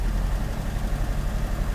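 A Mercedes W123 230E idles rough after a fuel distributor repair, a steady close low rumble with slight unevenness that shakes the car body; no talking.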